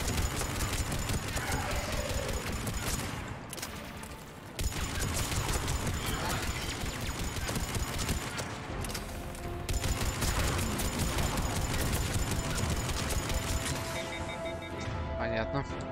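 Dense, continuous gunfire from the video game Mass Effect 3, with rapid bursts and crashing impacts and two brief lulls. A voice talks over the shooting.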